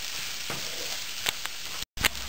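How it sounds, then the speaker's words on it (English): Chopped onion with a little salt fries in a pan for dal makhani, a steady close sizzle broken by a few sharp stirring clinks and a brief dropout near the end. "Now I am adding chopped onion and also I am adding just a little bit salt so my onion can cook very fast."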